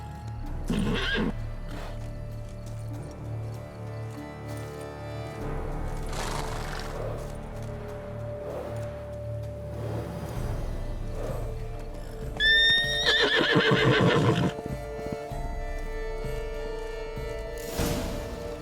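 In The Witcher 3 game, a horse snorts and gives a loud, quavering whinny partway through, with scattered hoof clops and shuffling around it over a low ambient hum.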